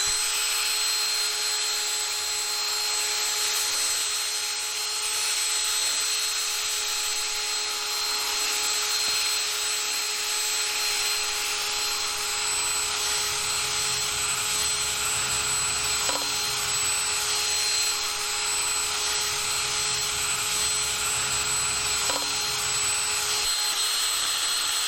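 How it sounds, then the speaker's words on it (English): A drill spinning a wire brush attachment scrubs moss off old clothesline posts, a continuous loud whirring with a steady scratchy hiss and occasional knocks, running unbroken and close. "hitting it with my wire brush drill attachment to get all this moss and gunk off it"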